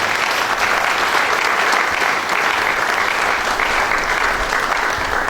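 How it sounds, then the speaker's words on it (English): A lecture hall audience at a university research and scholarship lecture gives loud, dense, continuous applause, steady throughout with no speech. "Thank you all for clapping for me."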